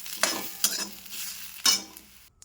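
Garlic cloves and onion sizzle as they roast in a pan, with a few sharp stirring scrapes standing out over the soft frying crackle before it fades near the end.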